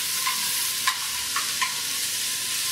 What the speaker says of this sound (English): So we're just going to stir this